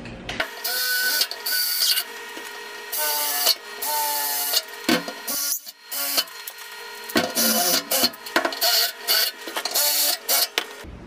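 A power drill bores pilot holes through a metal door for a lock, first with a 5/32-inch bit and then a 1/4-inch bit. It makes close, loud, high-pitched whining bursts that start and stop repeatedly, with short pauses between them.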